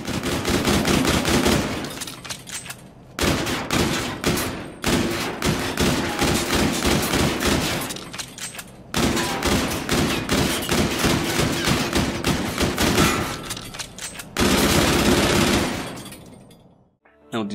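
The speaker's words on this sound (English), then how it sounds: "That one was a Hornet. The handgun thingy." Rapid automatic gunfire in the shooter game Call of Duty: Infinite Warfare, from the Hornet handgun: loud, dense bursts of shots lasting several seconds each, separated by brief pauses.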